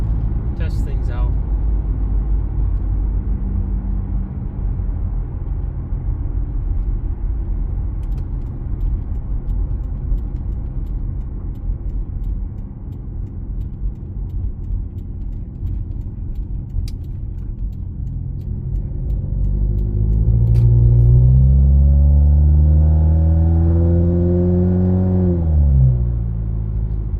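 A 2015 Subaru WRX with an FA20 engine, aftermarket intake, catback exhaust and high-flow cat downpipe drives along with a steady low exhaust drone, then rises in a loud revving pull near the end; a person talks over it.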